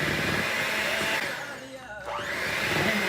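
An electric mixer whirs steadily and close as it beats brownie batter with powdered sugar, its tone dipping briefly midway before returning to full speed.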